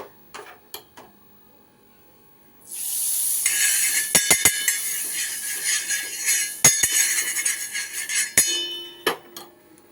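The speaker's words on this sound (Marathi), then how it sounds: "आपण आता थोडं बटर टाकूया आणि पाव भाजूया" Butter sizzling on a hot tava as pav bread toasts, a steady close frying hiss rising after a quiet start, with occasional sharp clinks of a utensil against the pan.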